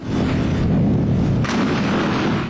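A loud, sustained explosive roar from a blast amid military tension in Venezuela, booming and rumbling for a couple of seconds with a second surge partway through, close and overwhelming.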